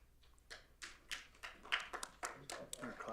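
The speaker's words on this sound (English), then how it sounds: "Clapping for everything?" A small group at a municipal council meeting claps after a unanimous vote. The handclaps are faint and uneven, a loose scatter of separate taps rather than a full ovation, in a quiet room.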